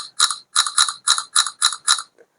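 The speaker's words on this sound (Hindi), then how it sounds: "AE type row camera row shutter sound" A Samsung S24 FE smartphone camera fires its shutter sound seven times in quick, even succession, each a crisp bright double click, close and clear with silence between.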